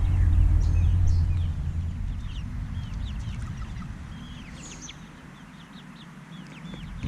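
A flock of chickens in a coop clucks and chirps throughout, with low rumbling handling noise at the start that fades, leaving the birds' calls.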